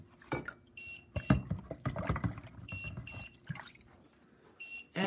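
A hot double-wall sublimation tumbler is plunged into cool water, bringing sloshing and bubbling splashes in uneven bursts, while a repeated electronic beep sounds now and then nearby.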